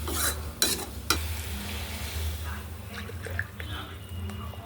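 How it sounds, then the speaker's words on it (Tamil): Rava semolina being stirred into boiling water in a pot for khichdi, giving soft scraping and bubbling close by, with a few sharp clinks at the start and faint voices in the background. "அளவாக உப்பு போட்டு ரவையை போட்டு கிண்டிடணும்"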